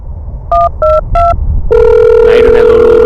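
A telephone rings up close, first with three short, loud, evenly spaced electronic trills, then with a sustained, louder tone that holds to the end.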